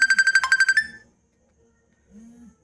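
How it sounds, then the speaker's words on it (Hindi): A phone ringtone trills in a quick run of bright electronic pulses for about a second, loud and close, then stops; a faint low voice stirs briefly afterward. "फोन आ गया, सॉरी"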